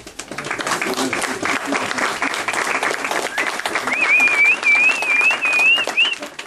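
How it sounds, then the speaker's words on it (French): Sustained applause from a crowd fills the clip, with a thin whistling tone rising above the clapping toward the end. "Quand vous pouvez remercier le Dr Ba et l'applaudir."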